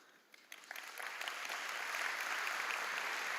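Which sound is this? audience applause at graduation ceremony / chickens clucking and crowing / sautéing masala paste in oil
audience applause at graduation ceremony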